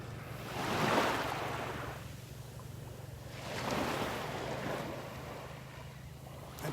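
Ocean waves at Delnor-Wiggins beach, two gentle surges of surf washing in and out over a few seconds, close and moderate, with a low background rumble and no talking.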